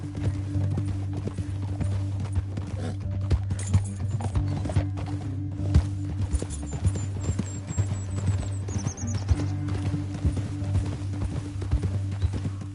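Steady clip-clop of horse hooves trotting throughout in a video game set in a canyon, with a low droning background and occasional faint chiming tones.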